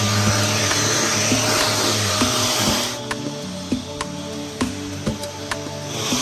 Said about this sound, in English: This is a mattress vacuum with a UV light.